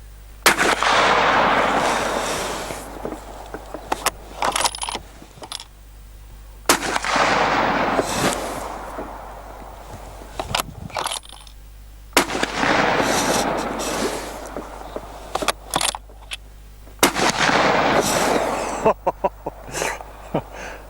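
Thompson Center Dimension rifle chambered in .30-06 fires at a watermelon, several sharp, loud shots spaced apart, each followed by a rumbling crack and decay, with clicks and handling noises between.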